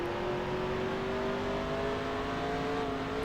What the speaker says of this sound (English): Trying to get the power down, get some wheels spinning up in here